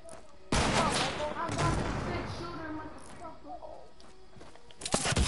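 Video game gunfire comes in dense, sustained bursts with thumping impacts, heard close and loud under overlapping voices of players talking.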